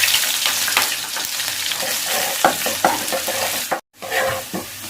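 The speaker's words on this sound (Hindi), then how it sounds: "ये अच्छी तरह से जब गर्म हो जाए तब आपने प्याज डालना है।" Chopped onions for Lahori chole sizzle and crackle loudly in hot oil, with intermittent scraping stir strokes and a brief sudden drop to near silence before the frying noise resumes.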